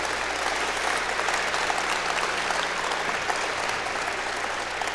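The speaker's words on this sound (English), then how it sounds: "How about a big round of applause for that awesome color guard?" A crowd at the 38th annual WAHF induction ceremony applauds the color guard, giving a dense, even wash of clapping that holds steady throughout, with a low hum underneath.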